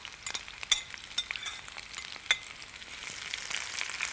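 Fried aubergine, pepper, onion and lentils stirred in a pan for vegetarian moussaka, a steady sizzle with light scraping and a couple of faint metallic clinks, quiet and close.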